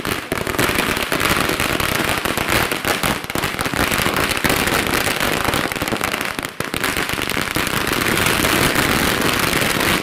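Firecrackers burst nonstop in front of a bus station during a politician's birthday celebration, a dense, loud rattle of rapid cracks and pops filling the whole stretch with only a brief dip.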